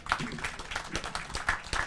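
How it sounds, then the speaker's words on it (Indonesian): Studio audience applause for young Indonesian guests on a public-issues talk show, a brief steady burst of clapping with some voices mixed in. "Tepuk tangan untuk pemuda Indonesia."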